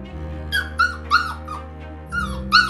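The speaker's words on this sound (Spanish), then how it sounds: "¿Por qué ladras?" A dog at home gives a run of short, high yips and whimpering barks, about six of them in uneven bursts, close and clear over a low steady hum.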